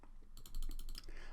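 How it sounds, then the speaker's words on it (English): Computer keyboard arrow keys pressed in a quick run of about eight sharp clicks in a row, close and distinct over quiet room tone. "I can actually go through using the arrow keys, Jaden, Riley, Rebecca, Charles, Jessica."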